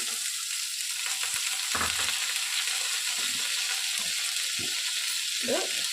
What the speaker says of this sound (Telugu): ఇప్పుడు ఇదే ప్యాన్లోకి కట్ చేసి పెట్టుకున్నటువంటి దోసకాయ ముక్కల్ని వేసుకోవాలి